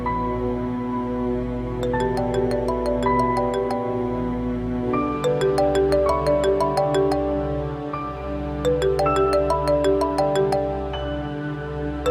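A melodic electronic ringtone plays on and on in a repeating pattern, loud and unbroken, with no one picking up.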